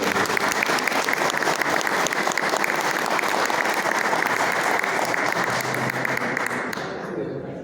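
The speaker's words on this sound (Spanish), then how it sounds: "Un fuerte aplauso, por favor, para el doctor" Audience at a book presentation applauding a doctor, sustained loud clapping from a crowd that gradually fades away near the end.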